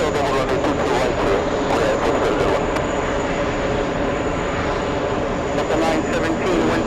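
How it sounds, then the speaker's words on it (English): A Boeing 747 of the Korean Air Force, Air Force One, taxis off the runway at JFK during UN week, a steady broadband jet roar holding at constant loudness throughout, with background voices murmuring underneath. "We're gonna zoom into that 747 finally exiting the runway"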